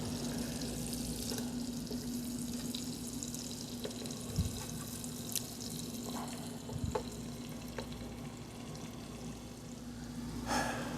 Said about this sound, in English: Get some water boiling for our shells.